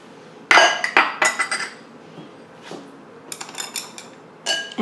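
Beef strips being mixed by hand in a bowl with table salt, soy sauce and black pepper, giving irregular clinks and knocks against the bowl, close and fairly loud, with no voices.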